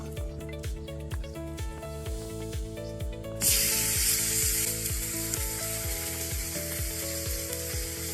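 Meat goes onto a hot wood-fired brasero plancha and starts a loud, steady sizzle at once. A regular mechanical ticking continues underneath.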